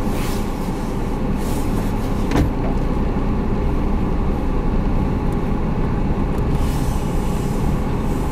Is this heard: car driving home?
yes